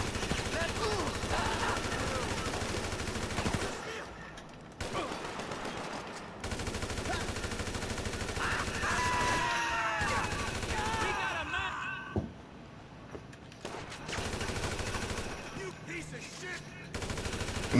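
Dense automatic gunfire in GTA 5 rattles almost continuously, loud and close, in long bursts broken by a few short lulls.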